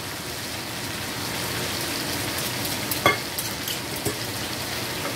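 Onions sizzling and caramelizing in a pan for Gambian-Senegalese chicken yassa, a steady close hiss of frying with a few sharp pops and stirring scrapes near the end.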